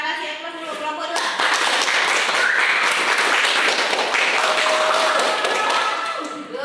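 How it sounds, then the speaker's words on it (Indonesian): Applause from a classroom audience for presentation group 2 during a teaching practice session, a dense sustained clapping that swells quickly and holds steady for several seconds before tapering, with a few voices mixed in. "Berarti dari kelompok 2 kita kasih aplaus dulu kelompok 2"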